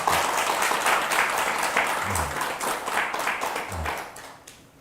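Buddhist temple participants at a Sunday service applaud themselves after finishing a hands-on activity, a loud, steady burst of group clapping that tapers off near the end.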